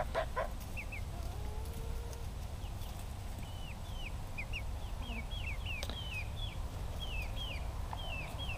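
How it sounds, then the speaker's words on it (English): A rooster and his flock of chickens and chicks mill about nearby outdoors, giving repeated short high peeps and chirps over a steady low background rumble. "And here comes the rooster with this flock trying to see what we're doing."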